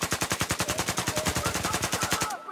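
Rapid automatic gunfire in the video game Battlefield 4, a single sustained burst of about twenty evenly spaced sharp shots that stops abruptly near the end.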